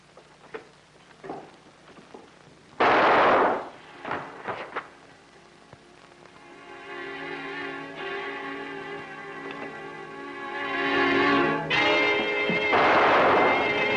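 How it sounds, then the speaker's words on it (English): Several sharp gunshots ring out in a film scene, spaced irregularly, followed by a swelling dramatic orchestral score that builds to loud peaks. "They heard a shot."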